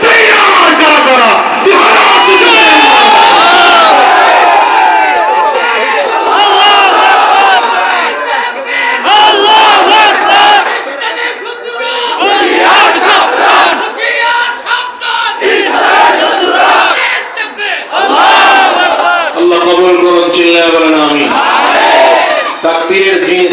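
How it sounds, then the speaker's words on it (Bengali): A large crowd chants a takbir slogan, loud massed voices in repeated rhythmic call-and-response waves with a lead voice shouting between them, sustained close and powerful throughout. "তাকবীরের যে স্লোগান ধরছেন"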